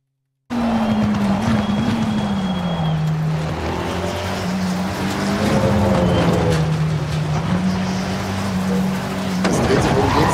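A Ferrari driving past, its engine a loud steady drone that wavers in pitch as it moves through the scene, with faint tire noise and no talk over it.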